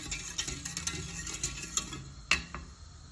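A spoon stirring custard in a pot on the stove, with repeated soft scraping and clinks against the metal at an uneven rhythm and one sharper knock near the end, close and fairly quiet, no talking.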